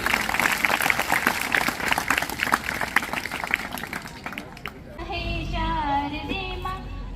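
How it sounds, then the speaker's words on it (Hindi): Loud applause breaks out for a retiring teacher at a school retirement ceremony, dense clapping for about five seconds before fading as a sung devotional melody with music begins. "इसके लिए जोरदार तालियां उनके लिए"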